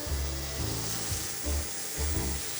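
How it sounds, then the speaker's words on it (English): Loud, continuous hissing sizzle of bacon frying in a pan, up close, with low thumps of the pan being moved a few times. "Want a little bit of a sizzle."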